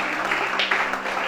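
A church congregation at a Gabonese worship service applauds together, a dense continuous wash of clapping lasting a moment with no pauses.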